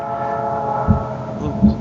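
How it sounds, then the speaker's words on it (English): A train rumbles past near a house, sending up a steady mid-range drone with a brief horn-like tone and a couple of low thumps. Voices are chatting over it. "there's a train near somebody's house"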